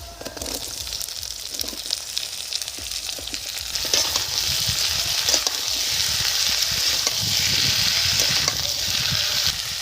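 Sliced onions and potatoes fry in a hot pan with a steady, loud, hissing sizzle that runs unbroken throughout, broken only by faint scrapes of stirring.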